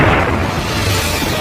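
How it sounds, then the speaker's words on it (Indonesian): A dynamite blast in a film scene on a boat among piranhas, heard as a brief, loud, dense rumbling boom that fills the short moment without any other sound. "saat dinamit itu meledak, para piranha yang ada di sekitar kapal pun langsung mati oleh efek ledakan tersebut"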